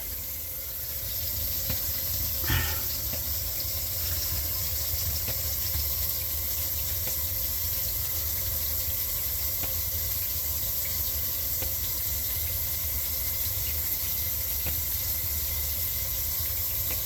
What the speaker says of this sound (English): So, we have water in the sink.